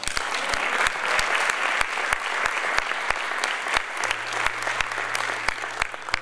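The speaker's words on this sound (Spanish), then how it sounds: "Un aplauso al Señor." A congregation at a Spanish-language sermon in Atlanta applauds, sustained clapping from many hands with sharper individual claps standing out, steady and moderately loud, no talking over it.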